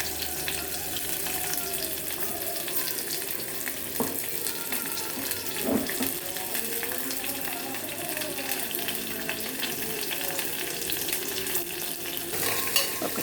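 Onions and green chillies fry in a pan for chicken biryani, giving a steady soft sizzle with occasional stirring scrapes and clinks throughout.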